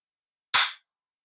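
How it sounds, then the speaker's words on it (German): A single sharp click as the trigger of a K98k bolt-action rifle breaks during dry fire, close and crisp, alone in silence. "Danach nochmal eine relativ weiche Bewegung und dann bricht der Schuss sauber"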